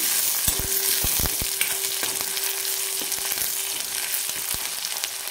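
Chopped onion and green chili frying in a pan with a bright, continuous sizzle, broken by a few sharp clinks and scrapes of a utensil stirring against the pan, close by and with no one talking.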